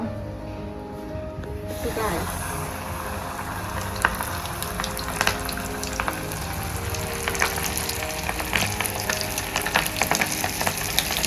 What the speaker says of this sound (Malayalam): എണ്ണ ചൂടായി വന്നിട്ട് ഇടുക.